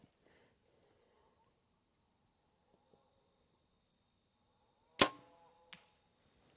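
An arrow strikes a steel plate target at long range, landing as one sharp metallic impact with a ringing tail about five seconds in, then a fainter second knock. The surroundings are otherwise quiet, with faint outdoor ambience.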